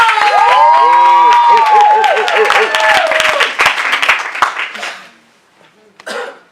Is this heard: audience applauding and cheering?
yes